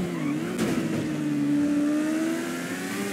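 A Kawasaki Ninja H2R superbike engine revs hard in GTA 5, a loud, continuous high-pitched whine that climbs and holds with no talk over it.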